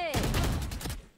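A quick burst of rapid automatic gunfire in a shooter video game, loud and close, ringing out for about a second before cutting off.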